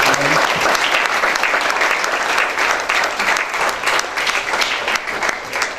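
A room full of people at a talk on Honduran independence breaks into loud, dense applause for the national heroes, close and continuous throughout.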